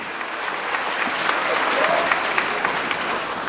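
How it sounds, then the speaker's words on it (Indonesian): An audience in a sales seminar applauds, a short burst of dense clapping from a crowd that swells briefly and then tapers off. "kasih tepuk tangan yang meriah, Bapak Ibu"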